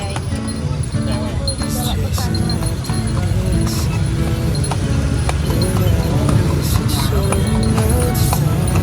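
Horse hooves clip-clopping on a street in Yogyakarta, a steady rhythmic run of sharp hoof strikes throughout, with people talking over it and background traffic.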